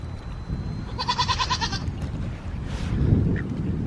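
Goats on a farm bleat in a quick burst of repeated, wavering cries close by, followed by rustling and low background noise.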